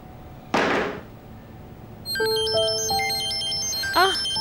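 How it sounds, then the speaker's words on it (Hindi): An incoming call rings on a mobile phone in a Hindi-dubbed drama, a bright electronic ringtone melody that loops and cycles after a short whooshing hit, close and loud. "यास्मीन खाला की कॉल है"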